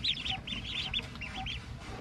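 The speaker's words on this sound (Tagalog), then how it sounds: "Yung mga pato natin guys." Ducks on a farm giving a quick run of nasal quacks and honks, several calls in rapid succession over a rumbling background, moderately close.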